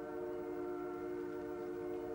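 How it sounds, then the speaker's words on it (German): Canadian passenger train horn sounding a steady chord on an old tape recording, loud and continuous over a low rumbling background, with no separate bell strikes standing out. "Das Gebimmel und das Horn."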